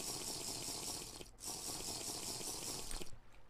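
Water being drunk in the Technofirma video game, heard as a continuous close running, splashing water sound with a brief break midway and a slight surge near the end; no talking.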